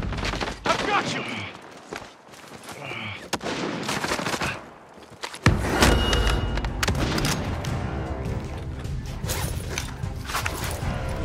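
Gunfire in Call of Duty Warzone Plunder mode: scattered sharp shots and short automatic bursts, then a heavy blast followed by dense continuous firing and rumble, loud and close, with players talking over parts of it.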